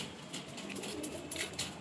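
A pigeon gives soft, faint coos in a short, quiet moment, a few muffled calls with light rustling around them.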